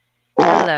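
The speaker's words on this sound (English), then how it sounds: "Did you just fart on my stream?" A loud, buzzy fart bursts in after a moment of silence and rasps on for about half a second, played on a livestream.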